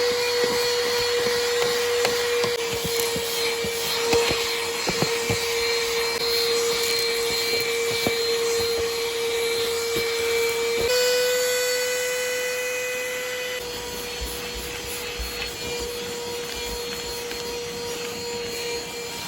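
Mini handheld vacuum cleaning a car floorboard, a loud constant whining motor drone with rattling and clicking as debris is sucked up, pitch shifting partway through, running alone without talking.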